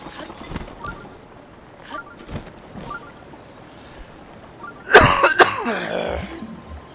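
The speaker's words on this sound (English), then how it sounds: "I cough all the time like this." A man coughs and clears his throat during a Breath of the Wild game stream: a few soft throat noises early on, then one loud, close burst of harsh coughing near the end over faint background game sound.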